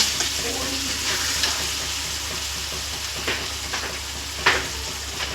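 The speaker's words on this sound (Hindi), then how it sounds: "मसाला तैयार हो रहा है।" Masala sizzles in a pan for a stalk vegetable curry, a constant close frying hiss broken by a few sharp stirring scrapes and clinks; no voices.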